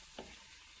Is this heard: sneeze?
no